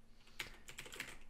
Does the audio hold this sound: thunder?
no